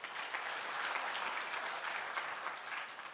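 A church congregation at a praise and worship service claps together, a sustained round of applause filling the room for a few seconds, moderately loud and without talk.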